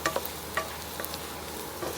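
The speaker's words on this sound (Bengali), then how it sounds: "এই যে আমার রসুনটা এক পাশ গোল্ডেন ব্রাউন ভাজা হয়েছে" Garlic cloves fry golden brown in a pan, giving a soft, continuous sizzle with a few light crackles and stirring taps.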